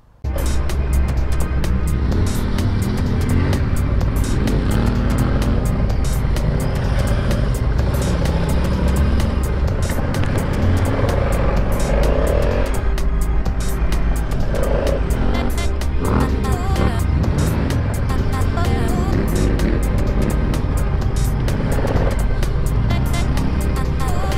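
Adventure motorcycles ride on asphalt, with a steady loud engine drone and wind rush running the whole time, some rises in revs, and faint voices now and then underneath.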